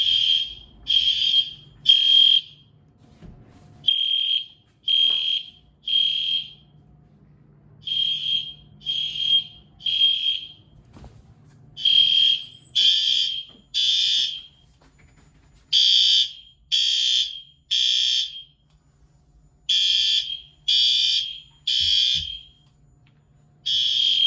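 A Genesis fire alarm set off by a Potter flow switch sounds in loud, repeated high-pitched electronic beeps, grouped in bursts of three with short pauses between, against near silence.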